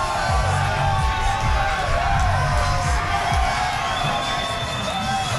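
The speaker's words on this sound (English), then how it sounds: "That's why this crowd is going absolutely crazy out here" Huge crowd at the Tampa Bay Lightning boat parade cheers wildly as the Stanley Cup passes on the river, a dense continuous roar of shouts and whoops, loud and steady throughout.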